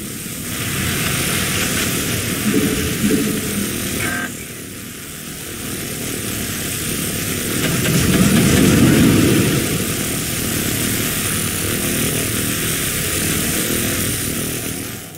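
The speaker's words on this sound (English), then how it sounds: "The laser drill is now cutting through the door's thermal barrier." A laser drill cuts through a door's thermal barrier in StarCraft 2, a loud, continuous mechanical whine and roar that holds steady, briefly dips, then swells again.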